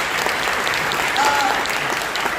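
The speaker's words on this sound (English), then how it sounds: "Let's give him and Councilmember Jones a huge round of applause" Dense, steady applause from an audience at a city hall event, loud and sustained throughout, with faint voices mixed in.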